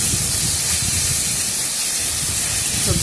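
Vegetables sweetened with sugar fry in a pan for a fasting sago pulao, giving a loud, steady, close sizzle and hiss that runs without a break.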